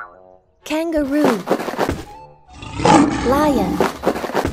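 In a kitten preschool video game, a lion's loud growling roar swells near the end, following playful high-pitched cartoon vocal effects and a short thunk.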